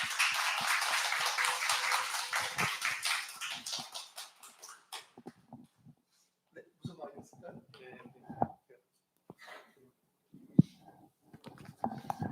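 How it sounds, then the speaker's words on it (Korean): A church congregation claps to welcome a pastor, a dense burst of applause for about five seconds that fades into scattered quiet claps and soft rustling. "목사님 나오실 때 박수로 환영하겠습니다"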